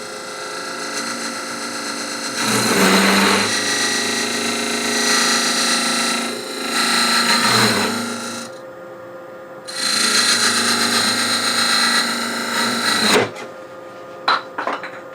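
A cutting tool scrapes into spinning wood on a lathe in loud, rough bursts with pauses between them, then a sharp catch and clatter toward the end.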